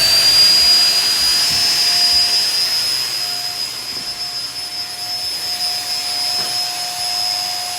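An electric air pump runs steadily and loudly, inflating an AirTrack tumble track gymnastics mat. It gives a continuous close whooshing whine with a high tone, with no talk over it.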